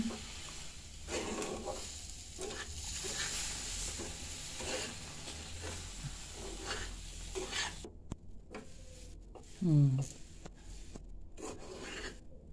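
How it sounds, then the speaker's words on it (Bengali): Semolina and water are stirred in a metal kadai, giving a continuous rasping scrape of a spoon against the pan in repeated strokes. It is close and moderately quiet, with no voices. "এবারে জল দিয়ে নাড়া হবে যতক্ষণ না কড়াইয়ের গা ছেড়ে আসে।"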